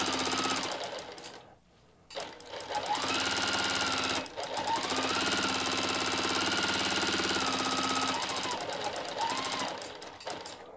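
A sewing machine free-motion quilting runs steadily and loudly, its motor rising and falling in speed, with a brief pause near the start before stitching resumes continuously.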